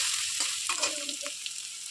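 Food frying lightly in a pan, a steady bright sizzle with a few soft stirring scrapes, close and alone with no voices.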